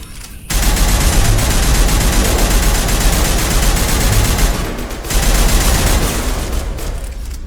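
Sustained heavy weapons fire in a Mass Effect sci-fi game scene, dense rapid volleys of shots running loud and continuous with a brief lull near the five-second mark before the barrage resumes.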